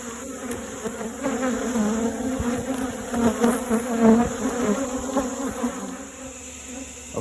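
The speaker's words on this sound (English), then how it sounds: "you've got some bees in this upper one" Honeybees buzz around an open wooden hive during an inspection, a dense continuous drone that swells and fades as individual bees pass close to the listener, with no talk.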